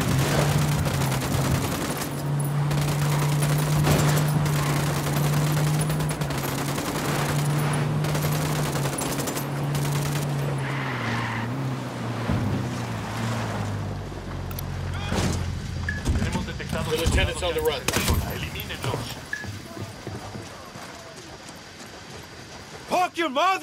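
Sustained automatic gunfire in the video game Ghost Recon Wildlands rattles on in dense, overlapping bursts, with voices talking over the shooting before it thins out into scattered shots and clatter.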